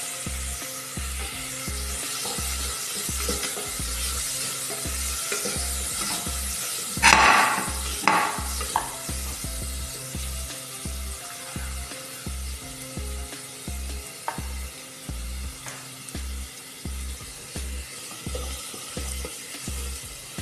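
Onion and garlic sizzle steadily in a pan while a utensil stirs them in a regular scraping rhythm, with a brief louder scrape midway; close and alone, no voices.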